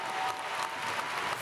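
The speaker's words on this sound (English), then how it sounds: "Let's give them a round of applause if they come up." A graduation ceremony audience applauding, a dense, steady wash of many hands clapping throughout a brief moment.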